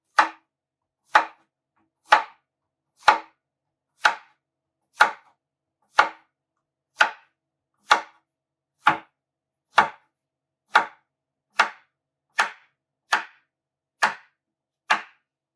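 Knife slicing yellow squash on a cutting board, about sixteen crisp, evenly spaced chops roughly one per second, close and clear with silence between strokes.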